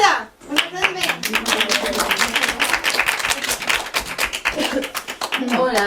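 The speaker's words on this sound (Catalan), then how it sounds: "Un aplaudiment." An audience in a children's morning programme studio breaks into lively clapping right after a short pause, quick close handclaps continuing steadily with some voices mixed in.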